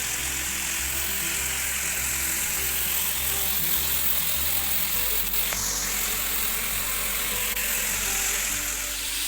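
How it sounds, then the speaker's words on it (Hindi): A blender whirs steadily as it purees fried masala with yogurt for chicken korma. The motor drone stays loud and continuous, dropping to a deeper pitch about halfway through, with no voices. "ये थोड़ा सा दही मैंने बचा दिया था, ये इसमें डालकर इसे ब्लेंड कर लेंगे"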